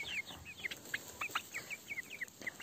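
Chickens and a rooster cluck in a village farmyard in Siberia on a morning, a steady run of short, repeated calls at moderate distance over a soft background, with no talking.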